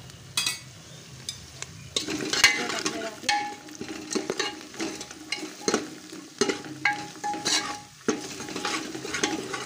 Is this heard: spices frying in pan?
yes